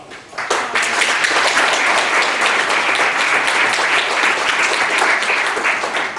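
Sustained audience applause at a school New Year concert, dense steady clapping from a crowd that starts after a brief quiet moment and continues loudly throughout.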